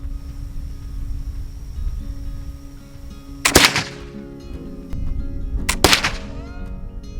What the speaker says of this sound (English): That was definitely a hang fire.